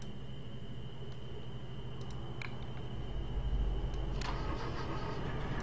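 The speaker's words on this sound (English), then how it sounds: "Why is the engine messed up?" A car engine in the game Jalopy cranks and catches, settling into a rough, uneven idle. The engine sounds faulty, the running is muffled and low, and no one speaks over it.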